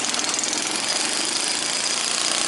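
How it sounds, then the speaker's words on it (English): A small engine, roughly five horsepower, on a homemade pulling tractor runs hard with a rapid, rattling, continuous buzz, loud and close with no talk. "this motor's like probably a 5-horse maybe?"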